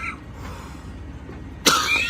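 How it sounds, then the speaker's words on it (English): A single short cough from a person at close range, sudden and loud, following a quiet room tone. "I've been getting worse on my cough lately."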